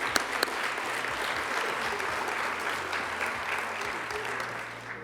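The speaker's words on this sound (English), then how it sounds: "I just want to give him a little round of applause to show my appreciation for him" Audience applause fills a school winter athletics awards night, a steady, sustained wash of clapping from a sizable crowd lasting the whole stretch, with a few sharper claps near the start.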